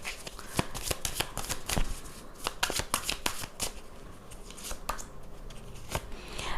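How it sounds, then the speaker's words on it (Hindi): A tarot deck is handled close up, giving crisp, irregular card snaps and riffling flicks in quick clusters, with a faint voice now and then. "मैं 2 कार्ड्स निकालूंगी एक साथ।"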